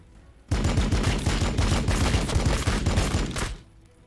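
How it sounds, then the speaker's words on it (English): Bolt rifles fire in Warhammer 40k Battlesector, a loud rapid burst of close gunfire starting abruptly and rattling continuously for about three seconds before cutting off. "And then we'll use that bolt rifle and fire here."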